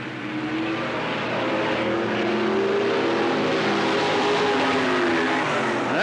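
Race cars roaring around the dirt oval at Cottage Grove Speedway in 1991, a dense continuous engine drone with rising and falling revs as cars pass, loud and sustained throughout.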